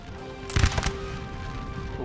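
Cannons fire canister shot in the Napoleon Total War video game, a short burst of a few sharp, rapid reports at moderate distance over a continuous battlefield rumble, no voice.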